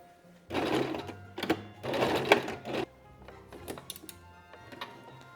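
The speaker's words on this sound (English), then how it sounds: "I'm just gonna sew from the V to the V, the snip to the snip" A sewing machine stitching costume fabric runs in two loud bursts of roughly a second each, then gives a few shorter, quieter stitching spurts with small clicks between them.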